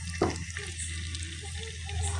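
Onions dropped into hot oil in a pot for a traditional chicken curry, giving a short close hiss and crackle over a low steady hum.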